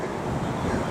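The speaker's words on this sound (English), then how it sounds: "Very breezy again." Steady wind on a breezy hillside at a ring fort in the Castlereagh Hills near Belfast, a constant broad rushing roar with buffeting against the microphone and no break across the short stretch.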